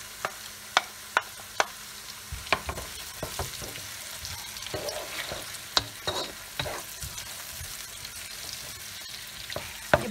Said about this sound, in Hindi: अब प्याज को हमने अच्छा हल्का सुनहरी करना है।